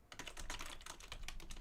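Rapid keystrokes clatter on a computer keyboard in a quick, steady burst of typing, close and fairly quiet, with no voices.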